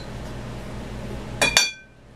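Granola mixture of oil and honey stirred in a bowl, a low soft scraping followed by two sharp, bright clinks of a utensil against the bowl, then near quiet.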